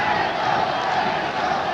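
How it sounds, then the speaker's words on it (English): Capacity crowd of fans roaring at ringside during a featherweight boxing bout, a steady dense wash of cheering and shouting that stays loud and unbroken throughout. "The fans, capacity crowd, loving it"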